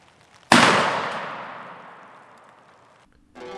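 A single loud shotgun blast during a turkey hunt, sharp onset then a long echoing decay across open ground, followed by silence and a new sound starting at the end.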